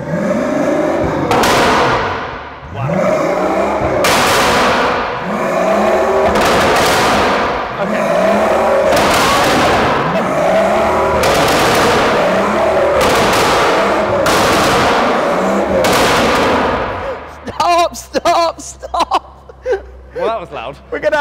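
A Pagani supercar revs hard in a garage with a car lift, each loud rising blip ending in sharp exhaust pops, roughly eight bursts in a row before the engine settles and brief talk follows.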